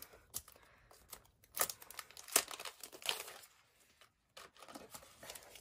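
Plastic packaging for a craft die set being opened, with close crinkling and tearing in bursts and a few sharp crackles, then a brief pause before more rustling.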